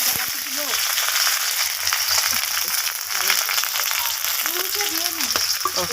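Onions sizzle and crackle steadily in hot oil in a pan for a meat dish, a close, constant frying hiss while a person speaks intermittently.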